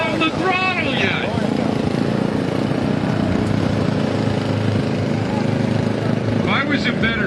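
Riding lawn mower engine roaring steadily throughout a lawn mower race, loud and continuous, with excited voices talking over it at the start and end.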